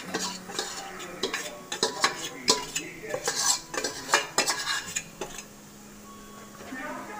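A utensil repeatedly scrapes and clinks against a pan while small shallots heat for kalthappam, a run of sharp metallic strokes in an irregular rhythm that fades to quiet near the end.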